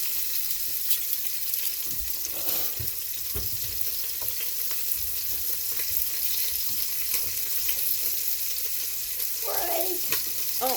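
Meat sauce sizzles and fries in an Instant Pot, a steady crackling hiss with occasional stirring clinks and scrapes, close and moderately loud.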